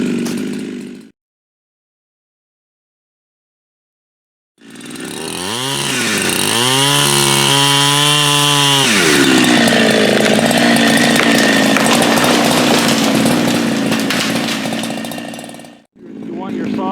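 Chainsaw cutting soft poplar while felling trees, running loud and close: a revving start, a sustained high whine through the cut, then a drop back to idle, with brief talk before and after.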